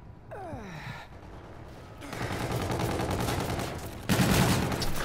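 Gunfire in the futuristic shooter Call of Duty: Infinite Warfare, a few sharp shots and bursts building into a denser, louder volley near the end, with a gasp-like sound early on.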